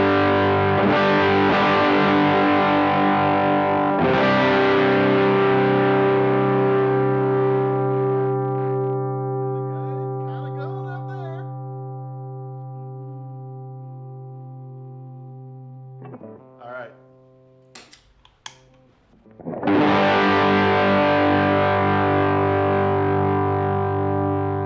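Electric guitar through a Tumnus Klon-style overdrive pedal gives loud, dark, sustained overdriven chords struck twice and left to ring and decay, then a few faint clicks and string noises before one more strong strum.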